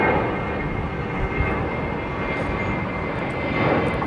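Emirates Airbus A380 jet airliner passing at Heathrow with flaps extending, a loud continuous broadband engine roar that holds steady and swells slightly near the end.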